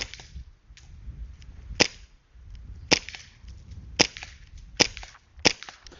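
A gas airsoft pistol fires five or six sharp cracks at a target about 50 feet away, irregularly spaced over a low background, with no talk.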